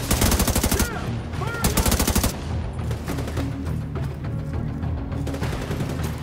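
Sustained rapid gunfire fills a firefight in The Division 2 video game, with dense machine-gun bursts and overlapping shots rolling continuously and loud throughout.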